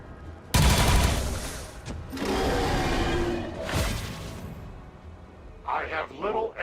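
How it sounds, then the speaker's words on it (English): Loud bursts of gunfire from XCOM 2: War of the Chosen: a heavy opening blast followed by sustained rattling fire and another sharp report, then a speaking voice near the end. "Now shoot it again."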